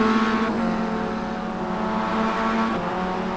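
A Mazda Global MX-5 race car at Daytona in iRacing holds a steady high engine drone on the banking, with brief gear-shift dips in pitch, loud and close with no voices.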